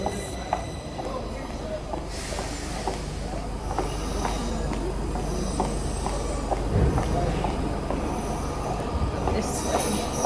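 A train rumbles along the rails with clattering wheels and high-pitched wheel squeals, a steady loud rolling noise throughout, with some faint voices in the background.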